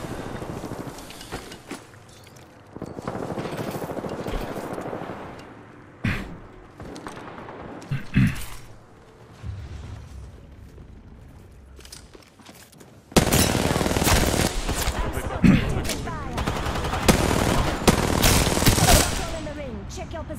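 Gunfire in the shooter Apex Legends: sporadic shots and bursts early, then a loud, sustained rattle of rapid fire for the final third, with a voice speaking over it.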